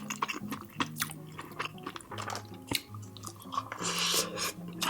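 Close, quiet chewing of Indian food, with soft wet squishing bites and the occasional clink of cutlery, a steady run of small mouth sounds with no talking.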